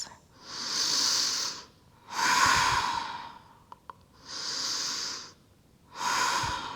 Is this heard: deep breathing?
yes